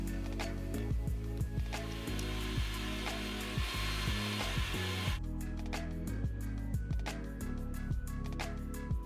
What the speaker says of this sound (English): you are going to blend the pumpkin with some sugar, cinnamon powder, nutmeg powder, and ginger.